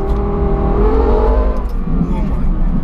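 A Lexus LFA with its V10 engine driven hard, heard from inside as a loud, sustained engine roar with rising harmonic tones that settle partway through, under occasional voices.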